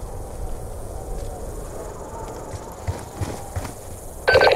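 Horses clip-clopping in Call of Duty Black Ops 2, soft rhythmic hoof thuds at moderate distance over a steady ambient bed with insect-like chirring, a brief louder burst near the end.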